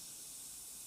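A Sagola airbrush sprays paint with a steady, close hiss of compressed air, a broad unbroken rush that holds level for under a second, with no voices.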